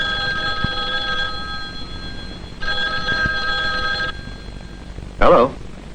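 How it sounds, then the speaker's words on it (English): An old-style telephone rings in two long trilling bursts with a pause between, followed by a brief voice after the second ring. "One day, a telephone rang."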